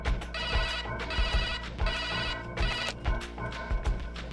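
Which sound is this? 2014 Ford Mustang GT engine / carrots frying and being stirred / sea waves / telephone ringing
telephone ringing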